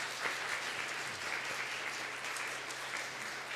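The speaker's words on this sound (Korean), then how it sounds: "특별히 찬양팀을 위해서 우리 격려의 박수 좀 한번 크게." A church congregation applauds the praise team during a Sunday worship service, a steady round of clapping from many hands heard from a short distance without any talking over it.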